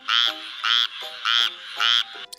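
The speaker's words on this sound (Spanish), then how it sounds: "Las ranas croan." Four loud, evenly spaced frog croaks, each a buzzy, rasping call, close up and clear against silence.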